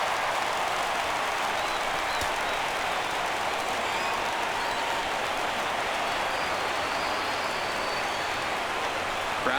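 A stadium crowd in the MLB 17 The Show baseball video game cheers on a 3-2 count at Boston, a loud, even roar of voices and clapping that holds steady throughout.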